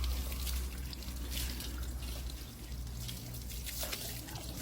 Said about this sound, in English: just throw some water on, just rinse it off, and it should just wash away all of this dirt and grease